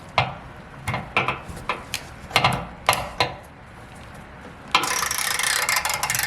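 A ratchet clicks in short uneven bursts while tightening a nut for the rear under spoiler on a 2020 Subaru WRX STI, close and fairly loud, followed by a sustained harsh hiss.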